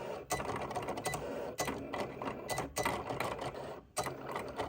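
A Cricut machine cuts out a sticker label design with a steady mechanical whirring, its carriage motor buzzing in short bursts broken by brief pauses as the blade changes direction, close and fairly loud.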